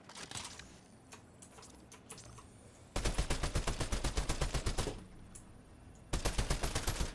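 A player's automatic weapon fires in two rapid bursts in Fortnite, each a fast, even rattle of loud shots. Scattered fainter game sounds fill the gaps before and between the bursts.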